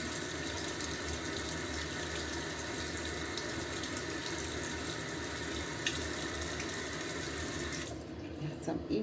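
Tap water running steadily into a sink, a continuous hiss and splash close by that cuts off near the end.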